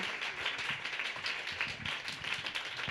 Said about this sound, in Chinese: 我们用掌声让他们在进行中不会紧张